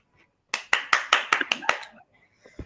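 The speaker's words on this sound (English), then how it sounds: "Can we give it a round of applause for Surveyor Olumide Vincent Adewebi, FNIS?" A round of clapping from a small audience at a professional surveying event, about eight distinct loud claps in quick succession that trail off after about a second and a half, followed by faint murmuring.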